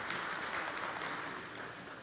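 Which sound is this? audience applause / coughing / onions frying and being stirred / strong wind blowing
audience applause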